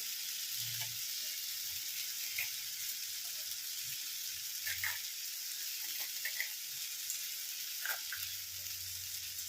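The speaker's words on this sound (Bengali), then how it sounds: "আলু কপি আমি ভেজে নিলাম" Potato and cauliflower frying in a pan, a soft, steady sizzle broken by a few light scrapes and clinks of stirring, with no talk heard.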